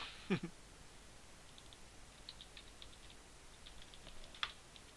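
Computer mouse buttons click softly while a context menu is set up in Excel, a few sparse, faint taps scattered over quiet background.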